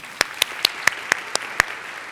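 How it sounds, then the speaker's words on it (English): Clapping at a 2019 Women in Analytics Conference panel on ethics in algorithms: about seven crisp, evenly spaced claps ring out clearly, close and alone, like a single pair of hands keeping a steady beat. "One more round of applause for our panelists here."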